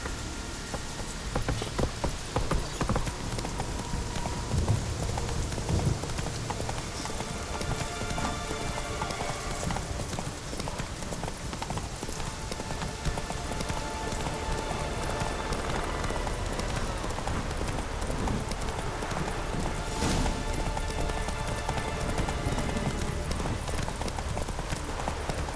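Roach the horse gallops through rain in The Witcher 3, with rhythmic hoof clip-clops running steadily under a constant wash of rainfall, and a voice speaking briefly.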